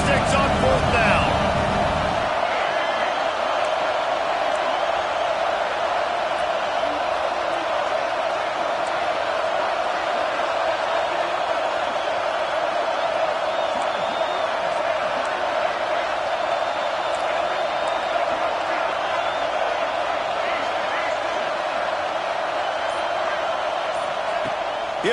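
A football stadium crowd keeps up a steady, loud roar through a fourth-down play, unbroken for the whole stretch, while a commentator talks over it.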